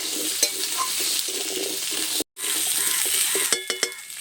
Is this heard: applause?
no